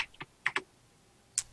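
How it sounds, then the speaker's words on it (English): Someone taps on a loud PC keyboard, a handful of sharp, close keystrokes scattered irregularly with quiet gaps between them and no talking. "He's tapping away. You can hear him tapping."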